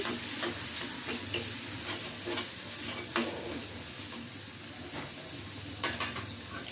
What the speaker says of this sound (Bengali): মশলাটা কষানো হয়ে গেছে এখন এটা আমি মাছ দিয়ে দেব এখানে